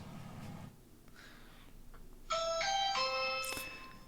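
An electronic doorbell chime rings, a bright multi-tone melody sounding clearly over a quiet background.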